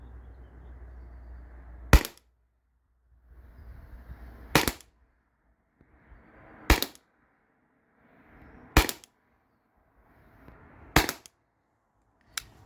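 Five sharp salt gun shots from a Salt Supply S2 ring out at a target 25 feet away, evenly spaced about two seconds apart, each crack followed by a short quiet stretch with faint handling noise.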